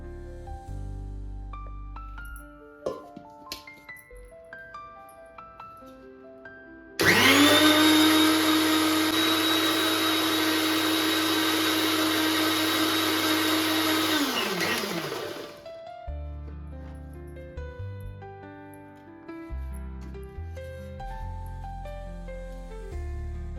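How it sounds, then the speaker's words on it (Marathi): An electric mixer grinder grinds dhokla batter in a loud, steady high whine lasting about eight seconds before spinning down, with background music before and after. "पहिला आपण मिक्सरला वाटून घेऊ"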